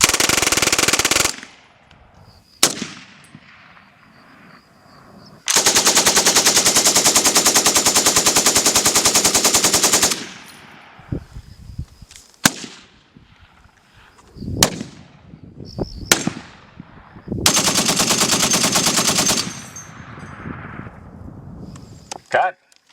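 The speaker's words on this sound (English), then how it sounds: "All right, this is going to be a 12-gauge shotgun." A 12-gauge shotgun fires in loud, close bursts during a film sound recording session, with blasts separated by pauses and ringing decays, and brief talk between shots.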